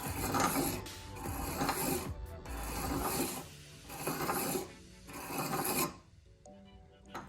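The end of a turbo LS piston ring is ground to set its gap, making repeated raspy filing strokes in several bursts with short pauses between them, close and fairly loud, with no speech.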